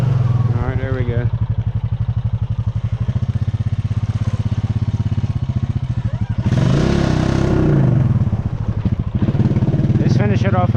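An old, worn-out Honda engine revs hard under throttle with a loud, rough, rattling drone. It surges higher around the middle before settling back, and a voice speaks briefly over it near the start.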